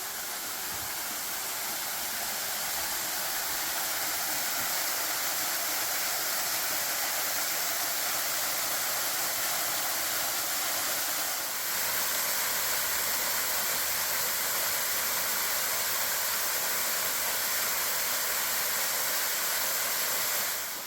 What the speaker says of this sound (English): Kind of a drop falls that cascades down at the bottom